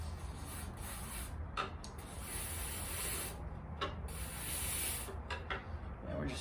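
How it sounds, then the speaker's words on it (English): Cleaner sprayed onto an electrical part of a Triumph Thruxton 900 motorcycle, bursts of hissing spray over faint rubbing and handling noises, close by. "we're just spraying it just to spray"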